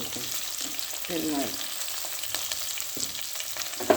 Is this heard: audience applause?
no